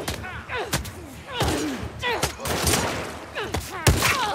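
Gunfire in the video game The Last of Us Part II, with repeated sharp shots and thuds at uneven intervals, fairly close and loud, under a player speaking excitedly.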